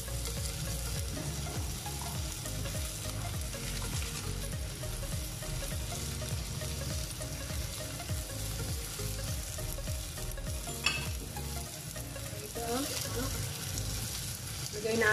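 Indomie noodles fry and sizzle in a wok while being stirred, a steady close crackle broken by repeated scraping strokes of the utensil against the pan.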